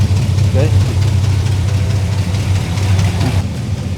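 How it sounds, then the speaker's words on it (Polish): A vintage car engine idles steadily nearby with a low, rough rumble, while people talk over it. "Silnik inaczej chodzi teraz, nie? No inaczej już chodzi."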